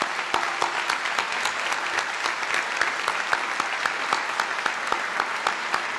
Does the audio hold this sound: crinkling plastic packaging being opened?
no